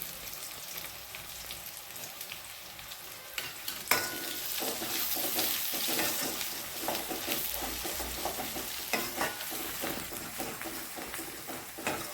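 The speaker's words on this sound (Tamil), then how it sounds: "கருவேப்பிலை எண்ணெயில் பொறிஞ்சது" Oil sizzles and crackles steadily as curry leaves fry, with occasional stirring scrapes and pops throughout.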